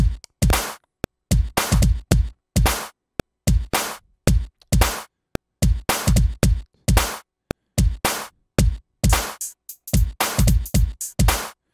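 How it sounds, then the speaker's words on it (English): A new jack swing drum beat swung with 16th note triplets, loud, punchy hits in a steady repeating groove with bouncy rolls between the kicks and snares, playing alone. "show you how it sounds with the 16th note triplets"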